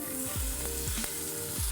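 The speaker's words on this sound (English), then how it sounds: "You're gonna sear them Ah. on all sides." Beef short ribs sear in shimmering hot oil, a steady loud sizzle and crackle with a few sharp pops and spits, no talking over it.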